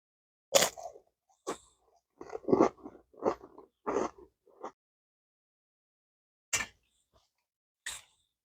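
Crunchy crackers from a 1987 US MRE are chewed in a quiet room, a run of close crisp bites and crunches in short bursts, then pauses broken by two isolated crunches.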